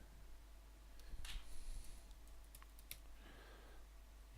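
Someone types on a computer keyboard at a desk. Quiet, scattered key clicks come in short irregular runs over a low steady hum, with no speech.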